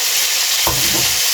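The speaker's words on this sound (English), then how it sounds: "And then give it a good stir." A spoon stirs chicken tikka masala in a hot pan. The sauce sizzles steadily, with two louder scraping strokes close by and no talking.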